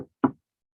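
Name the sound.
knocking on wood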